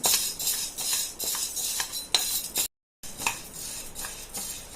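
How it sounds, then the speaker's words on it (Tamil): Wheat grains roasting in a pan for a wheat chikki snack, with repeated sharp crackles and metallic scrapes from stirring, close and fairly loud, with a brief dropout midway. "நல்லா கோதுமை வந்து நல்லா பொரிகிற அளவுக்கு நம்ம வறுக்கணும். பொரிகிற சவுண்டு கேட்குதுன்னு நினைக்கிறேன்."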